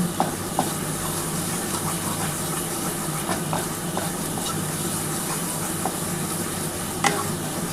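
Bottle gourd leaf mash fries in a pan with mustard oil and a dried chili, giving a steady close sizzle and hiss, with occasional soft scraping taps from stirring and no talking.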